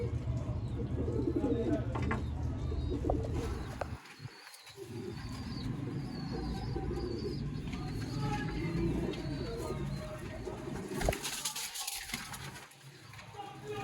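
Sialkoti breeder pigeons coo in a loft, low soft calls running steadily through the clip amid dense bird chatter, with brief quieter dips and faint higher chirps overhead.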